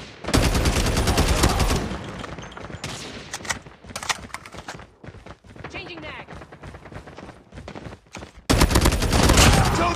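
Heavy gunfire in the video game Eagle Fighter, with rapid bursts of automatic shots that are loudest at the start and end and sparser in between, while voices shout over the shooting.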